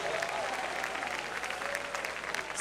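A church congregation claps together during an evening service, steady dense applause with light cheering mixed in, fairly loud and filling the room.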